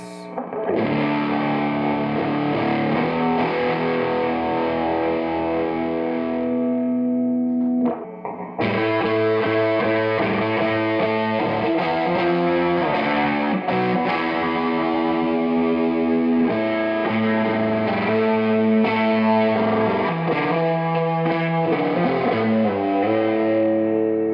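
Heavily distorted electric guitar through a high-gain fuzz, loud sustained chords and riffs with a brief pause near the eighth second, no voices.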